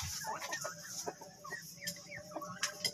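Poultry in a partitioned pen where Cemani chickens, turkeys and laying hens mix, giving scattered clucks and short calls close by, with no talking.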